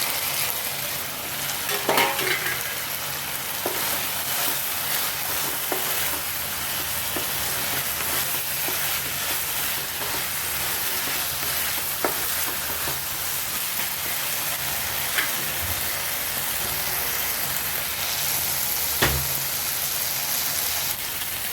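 Chicken with spices sizzles and fries in a pan, a continuous dense crackle with occasional stirring scrapes and clicks, close and steady without speech.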